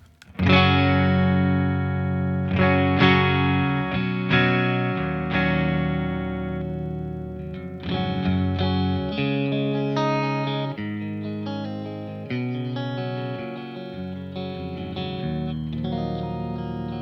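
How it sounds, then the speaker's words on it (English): Clean electric guitar through an amp plays chords and single notes with bright, ringing sustain and some chorus-like shimmer, no voices. "So that's the sound of the guitar and the amp in the clean channel."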